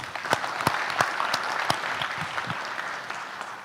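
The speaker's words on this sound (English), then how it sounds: "So in that criteria, they deserve a clap." Audience applause at a business summit, a steady wash of clapping with a few sharper individual claps standing out, sustained at moderate loudness for several seconds.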